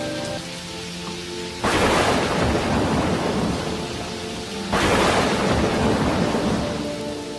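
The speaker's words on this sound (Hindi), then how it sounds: "शाम ढलते ही आसमान पर काले बादल घिर आए और तेज आंधी के साथ बारिश शुरू हो गई" Steady heavy rain pours with strong wind throughout, broken by two loud rumbling thunderclaps a few seconds apart, with no voices, in a cartoon story.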